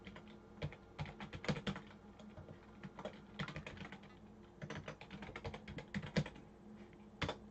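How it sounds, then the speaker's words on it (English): Fingers type an email on a computer keyboard in steady bursts of quick, light key clicks, with short pauses between runs, close and fairly quiet. "Just typing in my email."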